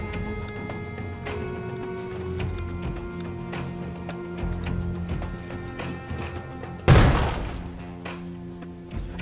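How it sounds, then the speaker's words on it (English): A frag grenade goes off at a doorway in the tactical shooter Door Kickers 2: one sharp, heavy blast with a quickly fading rumble cuts through quiet ticks and faint background game sounds. "We're gonna use a frag grenade on the doorway."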